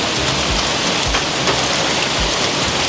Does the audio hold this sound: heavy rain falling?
yes